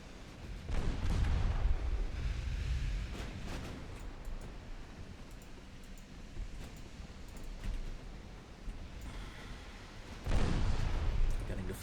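Naval artillery from warships in Ultimate Admiral Dreadnoughts booms in heavy bursts, with a strong salvo near the start and another near the end, separated by rumbling noise, under a voice commenting.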